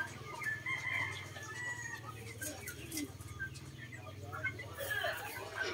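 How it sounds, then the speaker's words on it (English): Two caged roosters crowing repeatedly at a backyard chicken coop, loud and close, with hens clucking and a steady low hum underneath; a person speaks briefly. "There's the 2 rooster there."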